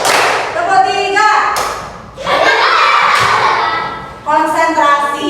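A few sharp claps or thumps from a class of primary school children practising a clapping rhythm pattern, sparse and brief beneath an adult's continuous instructional talk.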